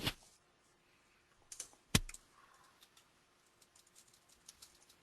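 Computer keyboard typing during a software developer session, a few sparse key clicks and short bursts of taps, faint and quiet with long gaps between them, no talking.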